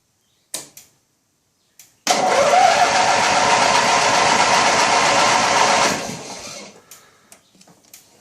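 A 16 hp Turf Master lawn tractor, recently repainted, cranks over and catches, running steadily and loudly for about four seconds before sputtering down; a few clicks come before the start.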